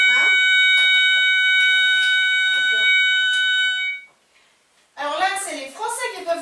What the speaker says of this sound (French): Un détecteur de fumée.